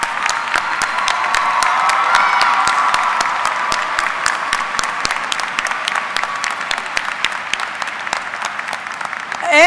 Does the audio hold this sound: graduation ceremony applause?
yes